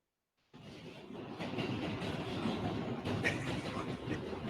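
A train running on rails, starting abruptly after a brief silence with a steady rumbling clatter of wheels and carriages at moderate loudness, no voices.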